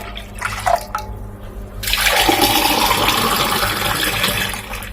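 Water pours steadily into a pot or kettle for ginger black tea, starting as a sharp broadband rush after a few faint clinks and continuing evenly, close and moderately loud, with no talking.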